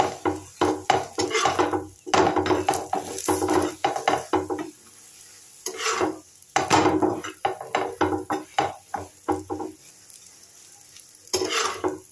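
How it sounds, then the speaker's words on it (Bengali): A radish-stuffed paratha fries in a pan with bursts of sizzling and scraping from a spatula, coming in uneven clusters with brief pauses, close and fairly loud with no talk. "এই যে ভাজা হচ্ছে।"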